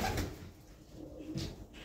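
A racing pigeon returning from a 195 km race from Casatejada, Madrid, Spain coos softly in two short, low, throaty bursts close by.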